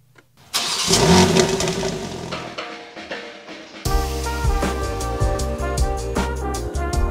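A BMW M4 Competition fires up with a sharp cranking burst that settles into a loud, steady idle with a deep rumble, close by and with no talking.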